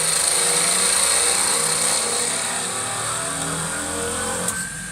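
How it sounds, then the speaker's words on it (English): Woodturning lathe hums loudly while a knife-type parting tool parts the end off a turned wood piece, a steady whirring drone with scraping hiss that eases slightly near the end, no talking. "I'm just going to part this little end bit off."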